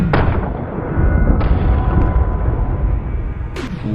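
Rifle shots are fired at a row of frying pans outdoors: three sharp, loud cracks spaced a second or two apart, ringing over a steady, rumbling background.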